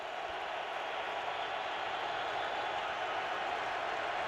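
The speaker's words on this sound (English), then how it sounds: "Crowd is stirred" Steady roar of a stadium crowd stirring at an NFL AFC wildcard playoff game, Bengals at Colts, a dense, even wash of thousands of voices holding at constant loudness with no single sound standing out.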